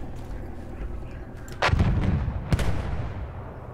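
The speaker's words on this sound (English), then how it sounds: "Launch mortars at that place." Mortar fire in Battlefield 1, two heavy booming blasts about a second apart over a rumbling battlefield background, loud and close.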